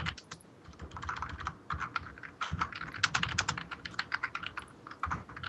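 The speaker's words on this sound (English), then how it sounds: "I hear you're typing." Rapid, uneven clatter of computer keyboard typing, close and steady, with short pauses between bursts of keystrokes.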